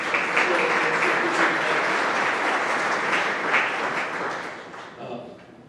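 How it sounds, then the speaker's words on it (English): Sustained applause from a sizable crowd at a university senior athletic banquet, steady and loud, then tapering off near the end. "Let's give them a round of applause."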